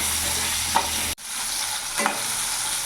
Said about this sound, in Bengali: কিছুক্ষণ নাড়াচাড়া করে আলুগুলো একটু ভেজে নেবো